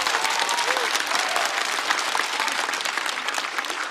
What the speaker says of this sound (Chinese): 再次把掌声送给小帕